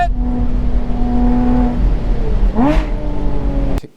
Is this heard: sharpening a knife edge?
no